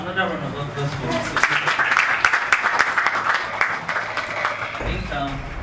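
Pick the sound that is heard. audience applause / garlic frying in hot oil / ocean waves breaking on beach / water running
audience applause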